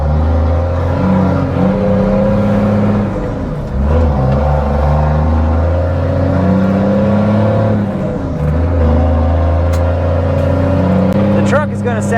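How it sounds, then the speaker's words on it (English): A pickup truck's engine idles and revs with a broken exhaust spring, giving a steady low droning rumble that swells and dips, loud and close, while a voice talks over it. "The truck is going to sound a little more peppy today."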